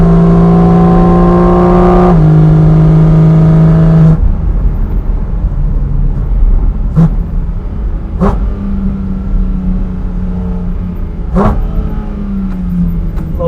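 A Porsche Cayman GT4 RS engine revs hard toward 9000 RPM on an alpine mountain pass, rising to a loud, sustained howl, then dropping into quicker upshifts and throttle changes with sharp gear-change blips.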